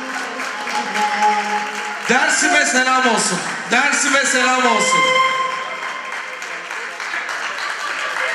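Wedding guests applaud at Melissa and Ferhat's celebration at Platin Park, a dense steady patter of clapping mixed with loud festive music and someone speaking over a microphone.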